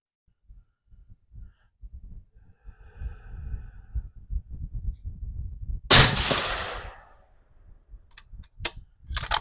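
A single sharp 6mm GT rifle shot cracks out mid-clip at 100 yards range, preceded by quiet handling clicks and followed by a few faint mechanical clacks.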